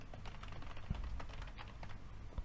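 Quiet typing on a computer keyboard, a soft, rapid patter of key clicks with a couple of firmer taps, heard close up in a still room without speech.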